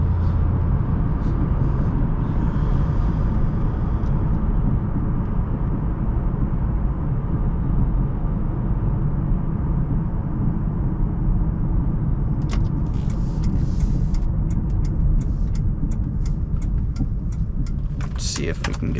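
An Oldsmobile Aurora V8 with an automatic transmission accelerating, a steady loud engine drone and road rumble from inside the cabin throughout, with light rattling and clicks toward the end.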